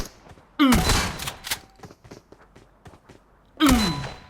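Two heavy blasts from a DBS double-barrel shotgun in PUBG Mobile, each a loud booming shot, about three seconds apart, with quiet clicks and handling noises between them.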